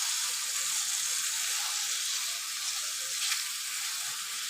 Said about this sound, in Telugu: ఇప్పుడు ఈ టమాటా కూడా మనం మంచిగా ఆయిల్లోనే ఫ్రై చేసుకోవాలి.